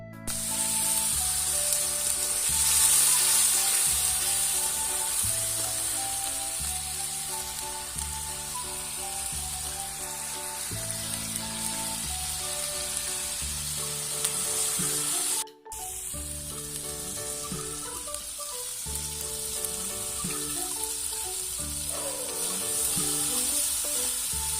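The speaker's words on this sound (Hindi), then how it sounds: "आज तेल गरम होला प्याज पका हबो" Onions and spices fry in hot oil for an Odia fish curry in a village kitchen, giving a loud, steady sizzle that runs throughout, with a brief break partway.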